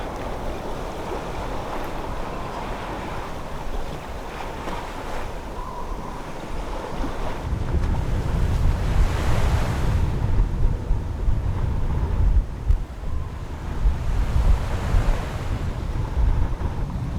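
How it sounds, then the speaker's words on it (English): A sailboat cruises through gentle swells in about 10 knots of wind in the Gulf of Alaska, with continuous wash of water against the hull and wind buffeting the microphone, growing louder midway. "this is absolutely glorious sailing today. It's like maybe 10 knots of wind and we are just cruising along, gentle swells"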